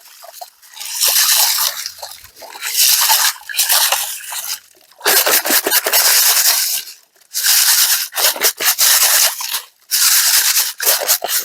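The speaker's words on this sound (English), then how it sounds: "I always use a sieve when I'm panning" Dry creek gravel is shaken through a metal sieve during gold panning, making loud, close bursts of rattling, hissing grit, about six shakes in an uneven rhythm with brief pauses between them.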